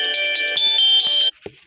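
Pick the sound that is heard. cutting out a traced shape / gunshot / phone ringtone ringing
phone ringtone ringing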